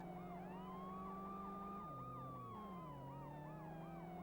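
Wailing ambulance siren from the Worlds Scariest Police Chases video game, a steady electronic siren sweeping up and down in a repeating cycle with a constant engine drone beneath, loud and continuous throughout with no talking.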